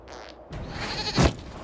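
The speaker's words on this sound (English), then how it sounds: "we discovered this man attacking the building with a goat." A goat bleats in Dragon Age: Inquisition, one short close nasal cry rising amid game noise, followed by a sharp thump.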